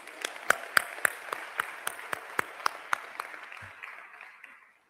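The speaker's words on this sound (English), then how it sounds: "Another round of applause for Matthew." A small audience at an education conference gives sparse, scattered applause. About a dozen distinct, fairly loud claps ring out in a loose rhythm, then thin and fade to quiet within a few seconds.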